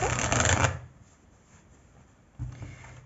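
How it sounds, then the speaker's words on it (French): Tarot cards are shuffled up close, a loud papery riffle for under a second followed by quieter rustling and handling, then another short burst of card noise. "Je mélange bien les cartes."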